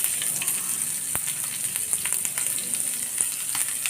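Onions frying in oil for a dried anchovy (nethili karuvadu) curry, a steady close hiss of sizzling with faint scattered crackles and stirring clicks throughout.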